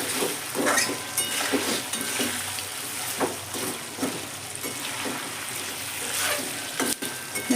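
Chicken fries in oil for a spicy meat dish, a continuous soft sizzle broken by repeated scraping and clicking of stirring against the pan, with no one speaking.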